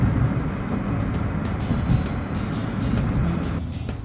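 A homemade electric car with a continuously variable transmission cruises at 30 mph, giving a steady, close, broadband rumble of road and wind noise throughout with no engine roar.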